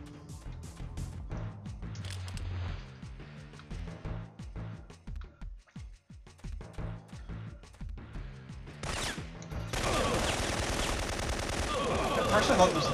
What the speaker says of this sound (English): Except they're not shooting each other now, they're all shooting you.